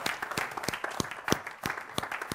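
A church congregation applauds in praise of the Lord, with dense, irregular hand clapping at close range, continuous for a couple of seconds.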